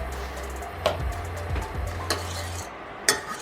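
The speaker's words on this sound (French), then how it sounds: "Vous grattez contre la casserole" Scraping and stirring against a saucepan while making flan parisien, with a few sharp metallic clinks over a low humming background.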